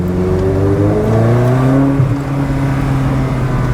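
A Ferrari 360 Modena Spider engine pulls hard under acceleration, its steady rising drone loud and close from start to finish, with a brief dip near the middle before it carries on.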